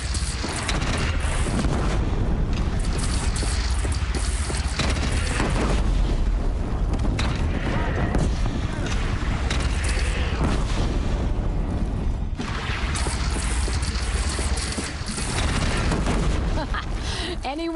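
Cannon fire booms out amid a naval battle against a bandit clan in the video game Horizon, with loud, dense blasts and rumbling impacts continuing throughout.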